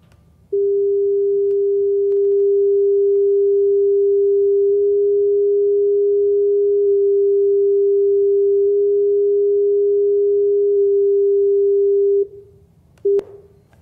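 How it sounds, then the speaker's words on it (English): A pure electronic sine tone at 400 Hz, steady and loud on its own for about twelve seconds, then shifting up to 405 Hz before cutting off with a brief click and a short final blip. "I'll play you a pure sine wave at 400 hertz. Then it's going to jump by 5 hertz."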